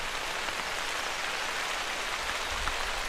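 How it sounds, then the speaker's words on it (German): Heavy downpour in the hunting game The Hunter: Call of the Wild, a continuous dense hiss of rain hitting surfaces outdoors, steady and fairly loud with no voices. "Hier draußen schifft es unglaublich."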